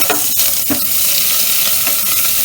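Ginger garlic paste fries with onions in a pan for a masoor dal tadka, a loud continuous sizzle with occasional stirring scrapes and clicks.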